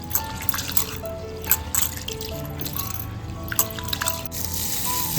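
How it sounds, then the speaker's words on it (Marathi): Water sloshes and trickles in a pot as rice is swished and rinsed, with steady dripping and small splashes close by. "आपण टोपामध्ये ना पूर्ण तांदूळ धुवून घेतोय पाणी घालून"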